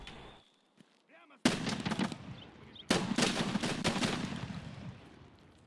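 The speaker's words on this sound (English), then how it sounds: "That sounds like an SKS to me." SKS rifle fire in the video game Escape from Tarkov comes in two loud bursts of rapid shots, each ringing out into a lingering echo, after a quiet start with faint movement sounds.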